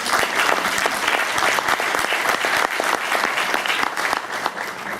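An audience at an Ibero-American award ceremony in Córdoba applauds, dense sustained clapping from many hands filling the room, steady and fairly loud throughout.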